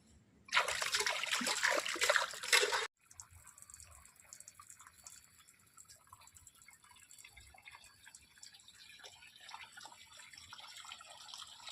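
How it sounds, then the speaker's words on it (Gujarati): Water poured onto trees in a village, a loud splashing gush for about two seconds, then a faint trickle and drips continuing quietly. "પાણી પીવડાવે છે ઝાડવાને"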